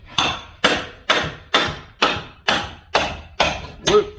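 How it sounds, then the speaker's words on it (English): A hammer drives a bolster chisel into a wall in a steady series of nine sharp, loud strikes about half a second apart. Each blow is close and ringing, with a short decay before the next. "Come back to this one with your hammer and bolster"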